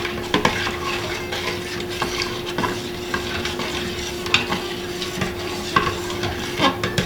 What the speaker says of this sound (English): So we put that in, give that a stir around.